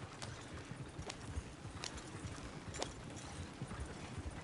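Horse hooves clip-clop in Red Dead Redemption 2, a steady, moderately quiet rhythm of hoofbeats on the ground with no talking over it.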